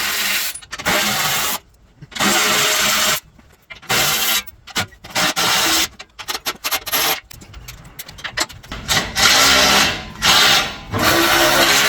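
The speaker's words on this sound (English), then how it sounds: "So there's 2 bolts at the front, there's 3 at the back there. We're going to take them all off, drop this guard off" Bash plate bolts coming off a Toyota Landcruiser 200 underbody guard, heard as bursts of loud, rapid buzzing from a power tool separated by short pauses, close up and with no talking.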